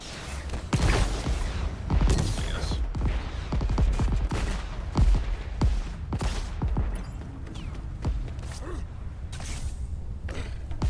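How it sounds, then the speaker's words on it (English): Enemy gunfire in the video game Crackdown 3: repeated loud bursts and single shots crack across the whole stretch, with mechanical clanks between volleys and no talk. "Watch the enemy fire!"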